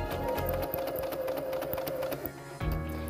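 A domestic sewing machine stitches steadily toward a corner of fabric, its fast rhythmic needle chatter running continuously before briefly slowing and stopping near the end.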